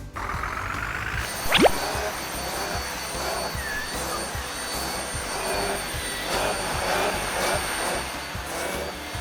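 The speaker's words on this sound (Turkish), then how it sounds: "Bu tam elektrikli süpürgeye göre." A small toy vacuum cleaner, broken, whirs continuously with a buzzing motor hum, punctuated by a rising chirp and a few clicks.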